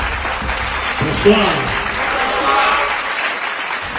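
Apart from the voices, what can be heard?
audience applause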